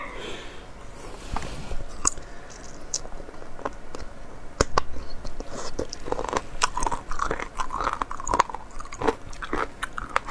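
Close, quiet chewing and biting of abalone sashimi, with repeated soft crunches and wet bites scattered irregularly through the stretch.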